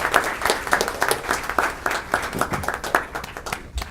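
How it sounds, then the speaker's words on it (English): An audience at a freeholder meeting in Linden gives a round of applause, a moderate, steady patter of many hands clapping at close range. "Please give him a round of applause."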